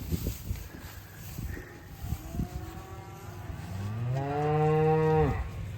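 A cow gives one long, loud, close moo that swells and then falls away, preceded by quieter lowing and rustling farm background.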